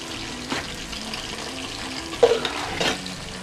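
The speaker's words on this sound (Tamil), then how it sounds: "இப்போ இதை அடி பிடிக்காமல் நல்லா கிண்டி விட்டுட்டே இருக்கணும்." Kilakarai-style idiyappam biryani with chicken cooked fully in oil being stirred in a pan: soft scraping and a low sizzle, with a few louder clinks and stirs toward the end.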